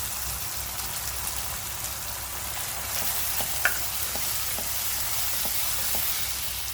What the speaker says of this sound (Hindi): अब ये अच्छे से मसाले को भूनेंगे।